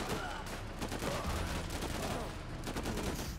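Sustained machine gun fire in the video game Last Train Home, dense rattling bursts and overlapping shots filling the whole span like a battlefield, with faint voices mixed underneath.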